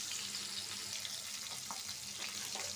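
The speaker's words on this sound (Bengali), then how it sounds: "মাছটা ভাজা হোক।" Cut pieces of dried ribbonfish fry in hot oil in a pan, giving a steady close sizzle with small crackles and pops throughout, no talking over it.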